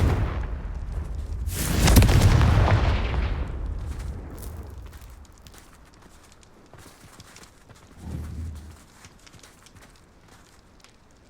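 Confringo blasting spells explode in the video game Hogwarts Legacy: one loud, booming burst that rumbles and fades over a couple of seconds, then a smaller thump later on, with footsteps in between.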